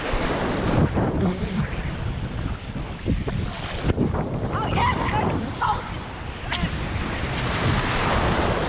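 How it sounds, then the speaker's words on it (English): Ocean surf on a warm Texas beach, with waves washing and breaking close by in continuous rushing bursts, heavy wind buffeting the microphone, and brief sharp splashes near the middle. "You taste it? It's salty. We in the ocean."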